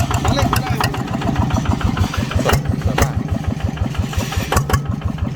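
A rice transplanter engine fitted with an aftermarket exhaust pipe idles with a steady, rhythmic medium-pitched chug, close and fairly loud, while people talk over it.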